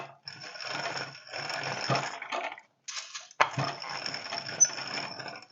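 A hand-cranked grain mill grinds very dry spelt, a close, gritty crunching and rattling that runs in uneven strokes with a brief pause midway.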